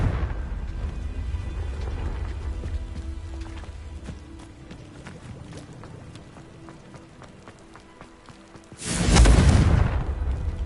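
A Confringo blasting spell goes off in Hogwarts Legacy as one loud burst near the end, following a long stretch of quieter game ambience with faint clicks.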